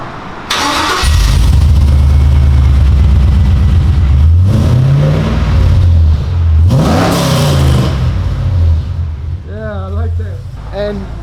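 A GMC pickup truck engine with a new exhaust cranks and starts, then revs repeatedly with a deep, throaty exhaust rumble, loud and close, with a voice heard near the end.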